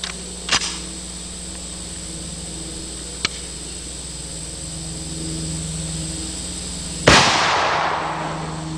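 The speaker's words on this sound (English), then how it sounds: "watch the disc with the full metal jacket 223" A .223 full metal jacket rifle round strikes a steel disc as one loud, sharp crack with a ringing decay, after a couple of faint clicks and a low steady outdoor hum.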